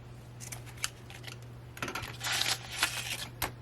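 Scissors snipping pieces of lace for a craft project, several quiet close cuts and handling rustles with a faint background hum.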